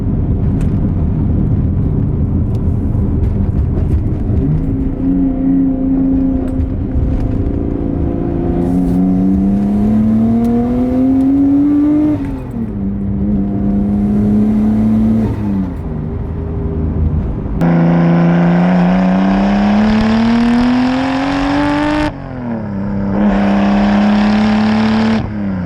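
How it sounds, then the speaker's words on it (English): A car with a Nissan RB engine drives under load, its loud engine note rising and falling through repeated gear pulls, with turbo whir and whoosh, recorded close from inside the car. "RBs are definitely one of the best sounding engines by far"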